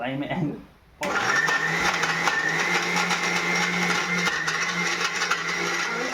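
After a second of near quiet, a blender starts and runs loudly, grinding banana, milk and dates into a protein shake with a steady, close, high-pitched whir.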